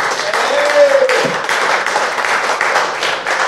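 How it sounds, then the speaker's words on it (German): Warm burst of audience applause at a football fan club talk evening, dense clapping from many hands, loud and close, sustained for a few seconds without a break. "Ein extra Applaus für dich."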